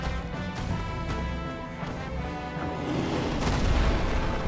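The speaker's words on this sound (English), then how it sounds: "Got him! With a firebomb!" A firebomb explodes in Dark Souls as a deep, muffled boom, followed by a rumbling, crackling roar that swells louder toward the end.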